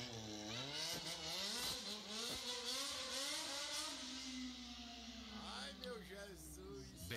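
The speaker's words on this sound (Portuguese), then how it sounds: "Vamos ver agora uma XJ com escape 4x1, botando raiva na vizinhança toda e dando aquela tocada à chave" Yamaha XJ motorcycle fitted with a 4x1 exhaust, revved repeatedly so the engine note climbs and falls in several loud, close sweeps, with a voice briefly heard over it.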